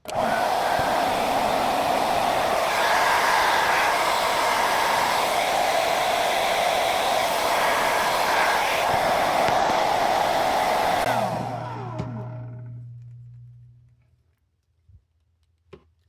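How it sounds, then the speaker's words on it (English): A blow dryer heating an action figure roars steadily with a loud, breathy whoosh, then shuts off and winds down, leaving a faint low hum and a few soft clicks. "I'm going to use a blow dryer."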